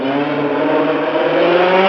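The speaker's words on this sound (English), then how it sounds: "those are some motorcycles going by outside, motorbikes" Motorbikes pass by outdoors, their engines forming a continuous loud drone that rises slightly in pitch as they go.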